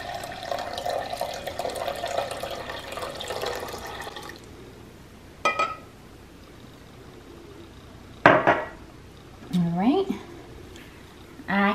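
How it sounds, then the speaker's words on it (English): Water pours steadily into a container for a few seconds, then stops; a few clinks and brief splashy sounds follow in quieter surroundings. "Pour the water into the vase."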